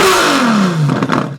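A modified LaFerrari with an aftermarket exhaust, close and loud, its engine note falling steadily as a rev winds down, then breaking into crackling pops and burbles at the end.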